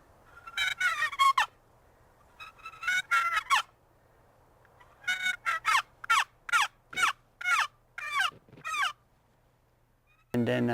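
A turkey box call is worked to imitate a gobbler, giving close, raspy yelping bursts in short groups and then a longer even run of separate strokes, with quiet gaps between the groups.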